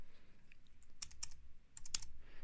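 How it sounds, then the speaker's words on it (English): A short burst of clicks typing a number on a computer keyboard, two quick clusters of keystrokes, close but quiet, with no talking. "I'm going to type in a number"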